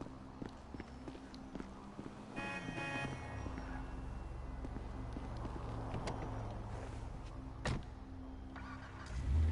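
A car drives in the video game Grand Theft Auto V, a steady engine drone with a falling tone as it shifts, plus scattered clicks and knocks, and a brief loud thump near the end.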